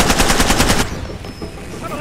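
Automatic gunfire in the video game Far Cry 2, a rapid burst of about eight close, loud shots over roughly a second, then cutting off into quieter game ambience.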